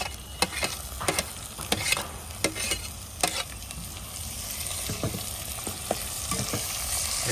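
Onion, chili and tomato fry in a pan, cooked outdoors by a creek for a liver masala, with a steady sizzle broken by sharp repeated clicks of a spoon stirring and scraping, close and moderately loud.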